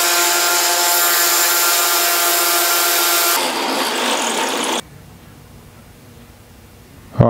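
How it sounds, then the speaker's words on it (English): A belt sander grinds metal turn signal mounts for a Honda CB500F scrambler, a loud steady whine that shifts pitch midway, then drops to a softer rubbing hum before a sharp bump at the end. "I'll go ahead and start shaping them now on the belt sander"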